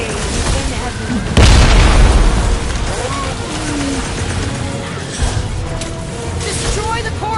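A boom ball blows up in the Guardians of the Galaxy game with a single loud, close explosion and a long rumbling tail, surrounded by character voices and battle noise.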